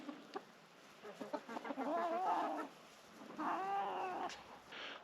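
Hens murmuring and clucking nearby, a soft warbling chatter rising in two longer phrases over a quiet outdoor background.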